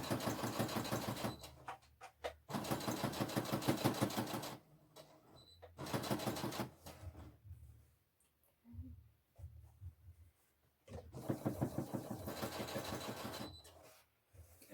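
Sewing machine running fast bursts of stitching through an apron skirt, three long rhythmic runs separated by pauses with softer handling noises in between.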